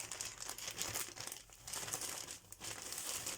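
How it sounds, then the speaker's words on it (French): Close, crackly rasping of adhesive tape pulled away from fabric in several quick bursts, quiet and crinkly. "je vais enlever le scotch"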